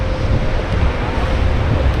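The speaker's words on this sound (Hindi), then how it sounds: "इतनी तेज़ हवा चल रही, इतनी बारिश हो रही है।" Strong wind roars against the microphone in a continuous heavy rush, with rain and splashing noise filling in underneath, loud and unbroken, at Nohkalikai Falls in Cherrapunji, India.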